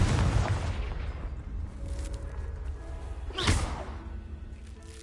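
The Confringo blasting spell goes off in the video game Hogwarts Legacy with a deep booming blast, a later sharp whooshing crack, and a low rumble lingering underneath.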